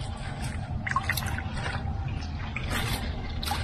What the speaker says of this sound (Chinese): 哗啦啦的声音